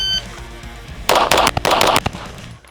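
A Kimber DS Warrior 1911 pistol fires a rapid string of loud, sharp gunshots, closely spaced cracks in a quick burst preceded by a faint timer beep.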